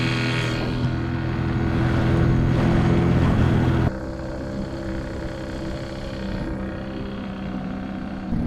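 A motorized dinghy runs across the water with a steady, loud engine drone close by. Water wash rushes alongside, and the engine tone drops to a lower, softer level about halfway through.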